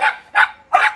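Dogs barking nearby, three sharp, loud barks in quick succession within about a second, each with a short tail, and no talk over them.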